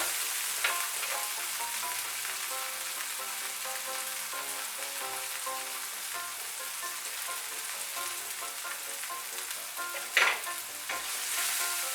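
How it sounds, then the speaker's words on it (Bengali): Tomato with chili powder frying in a pan for a traditional Bengali dish, a steady, close sizzle with soft stirring scrapes throughout and a brief louder clatter near the end. "দিয়ে একটু ভালো করে টমেটোটা ভেজে নেব।"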